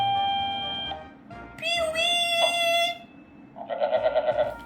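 Several goats bleat in strained, wavering cries, one after another, close and loud, followed by a pulsing, rapid bleat near the end, with faint background noise between calls.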